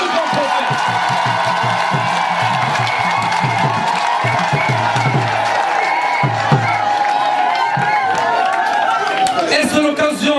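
An audience at an anniversary church gathering applauds and cheers, with continuous clapping and scattered whoops filling the hall while a voice talks over it.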